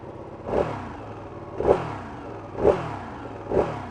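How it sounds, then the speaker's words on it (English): A 2016 Ducati 959 Panigale on standard exhaust cans blips its throttle four times at idle, each sharp rev rising and falling back, loud and close with no talk. "Let's start her up."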